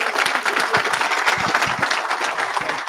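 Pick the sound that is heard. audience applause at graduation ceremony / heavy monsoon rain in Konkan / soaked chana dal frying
audience applause at graduation ceremony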